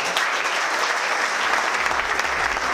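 An audience applauds the 2014 team time trial cycling champions, a dense, steady clapping from a sizable crowd that continues evenly throughout.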